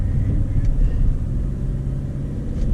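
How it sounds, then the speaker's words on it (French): A car engine with its exhaust valve open, driven on snowy mountain ridges, gives a loud, steady low rumble close by for a few seconds. "Valve d'échappement ouverte."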